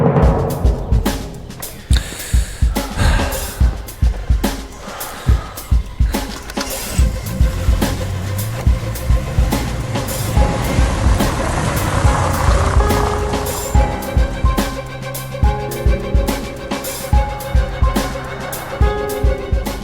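Engine running with irregular knocks and clatters, a rough mechanical drone that swells and settles over about twenty seconds.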